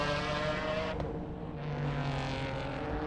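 Race cars at the 1996 Le Mans 24 Hours, their engines roaring steadily at a distance near a tricky chicane entrance, a continuous mid-level motor drone with a brief sharp burst partway through.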